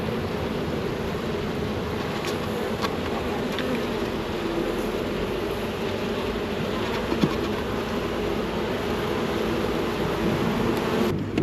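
Honey bees buzzing around an opened hive during a beginner beekeeper's frame inspection, a dense continuous drone filling the air, fairly loud and steady with a few closer passes, no talk.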